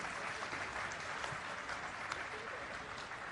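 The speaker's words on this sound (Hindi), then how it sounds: "उनके लिए एक बार जोरदार तालियां आपकी तरफ से।" Crowd applause at a literary festival stage event in Delhi, a steady wash of clapping from the audience heard faintly and at a distance.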